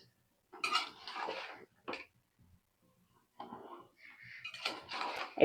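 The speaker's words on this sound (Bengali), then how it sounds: "একটু নাড়া দিয়ে নি।" A spoon scrapes and clinks inside a pot of papaya and potato curry with salted hilsa, in two short bursts of stirring separated by near silence, close and fairly quiet.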